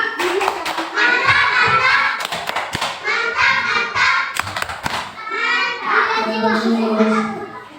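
Third-grade schoolchildren in a classroom clap a short rhythmic cheer together, sharp bursts of hand claps mixed with children's voices calling out, loud and close.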